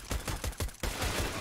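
Rapid bursts of gunfire in a Counter-Strike match on Dust 2, sharp repeated shots in quick rhythm followed by a denser continuous volley, fairly faint and heard alone.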